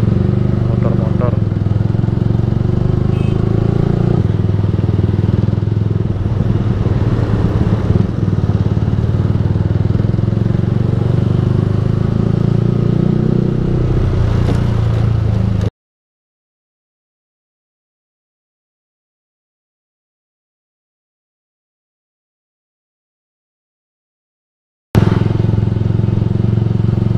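Yamaha R15 v3 sport motorcycle fitted with a Ronin Musashi aftermarket exhaust, ridden on a one-way town road, giving a steady loud engine drone for about fifteen seconds, then total silence before the engine sound resumes.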